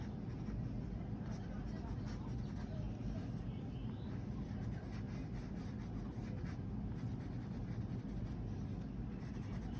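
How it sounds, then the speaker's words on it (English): Continuous soft scratching of a watercolor pencil on paper, steady rubbing strokes close up, with a low background rumble. "Again, I'm using watercolor pencils here."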